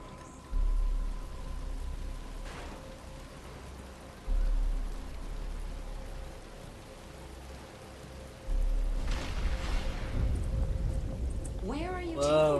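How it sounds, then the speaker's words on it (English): Steady rain patters in the video game Batman Arkham Asylum, a soft continuous hiss with low rumbles swelling now and then, while voices talk over it. "But it's starting to rain."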